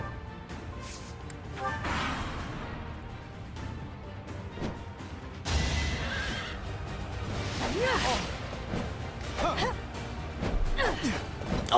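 A horse neighs within the Fire Emblem: Three Houses video game, with a couple of whinnying calls rising over a busy layer of battle noise and background sound.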